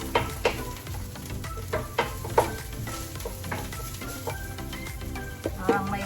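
Onions sauté in a hot pan, a continuous close sizzle punctuated by frequent sharp scrapes and clacks of a spatula stirring at an uneven rhythm.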